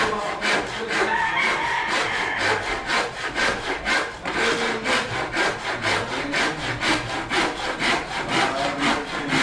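A hand saw cuts through wood for a bungalow ceiling in steady back-and-forth strokes, a rhythmic rasping that repeats close by for several seconds.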